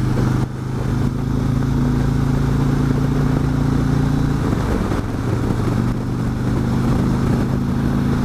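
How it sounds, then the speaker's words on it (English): A motorcycle engine droning steadily and loud throughout a ride, its tone shifting a little as it pulls, with wind and road rumble mixed in. "get the bike going there a little bit."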